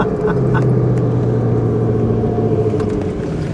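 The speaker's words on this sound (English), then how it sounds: "Oh boy, you can hear that supercharger behind us." Supercharger whine from a Tungsten Silver Grey 2006 Ford GT while driving, a steady close engine drone carrying a thin high whine that holds evenly throughout with no talking.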